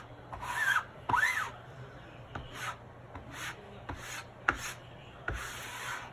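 Chalk paste scraped across a stencil screen, repeated close rubbing strokes at varying angles with soft, rasping swishes and an occasional sharp tap.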